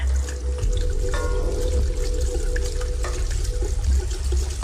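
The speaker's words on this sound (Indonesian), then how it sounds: "Aku mematikan keran air" Steady running water from a tap in a pantry, a continuous splashing rush close by with no voices.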